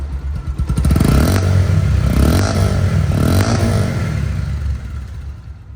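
A second-hand Bajaj Pulsar motorcycle in a showroom runs loud and close, its steady engine drone swelling with a few rev blips.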